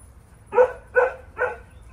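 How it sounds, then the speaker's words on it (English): A hunting dog that chases squirrels, lizards and birds gives three short, evenly spaced yelping barks, fairly close and clear over a quiet background. "That's my hunting dog."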